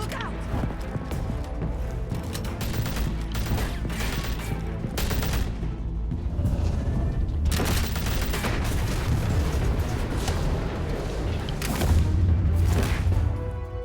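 Rapid bursts of gunfire in the Batman Telltale video game, dense and loud over a continuous action soundtrack, with a voice calling out amid the shooting.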